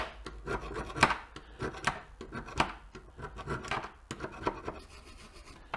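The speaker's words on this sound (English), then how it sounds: "If you have big chunks of rust in there, you can use a screwdriver" A screwdriver scraping and prying big chunks of rust out of rear brake hardware on a Hyundai Elantra, giving close, repeated rasping scrapes in irregular strokes with no talking.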